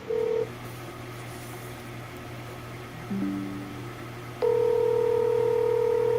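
A telephone dials a call: a short tone, then quiet line hiss, a brief pair of dialing tones, and a steady ringback-style tone starting near the end, all moderately faint with no voices.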